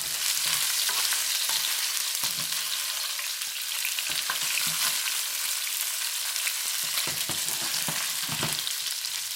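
Salmon pieces fry in a pan with a constant bright sizzle and scattered soft stirring knocks and scrapes, fairly quiet and continuous for around nine seconds, no voices.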